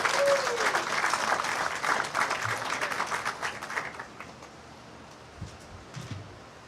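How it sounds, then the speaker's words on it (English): Applause for graduates at a graduation ceremony: a large crowd claps steadily and loudly for about four seconds, then the clapping thins out and fades, leaving a few scattered claps and faint thumps near the end. "Let's get another round of applause for all of our graduates"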